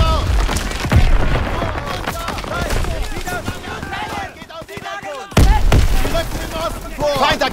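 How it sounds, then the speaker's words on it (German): Gunfire and booming explosions from the World War II video game Call of Duty WW2, sharp shots and thuds scattered throughout under shouted voices and battle noise. "Schüsse! Unsere Jungs müssen in der Nähe sein."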